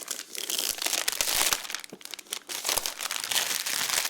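Close, continuous crinkling and tearing of protective plastic wrap as a Mac Mini M1 is unwrapped, a busy stream of crackles and rustles with brief pauses, no talking.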